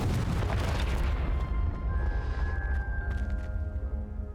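A Confringo fire spell explodes in the Hogwarts Legacy video game: a loud, booming blast at the start that decays into a rumbling tail, with sustained musical tones rising underneath.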